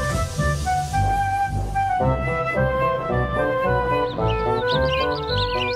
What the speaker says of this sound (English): At Toby's shed, the birds were still chirping.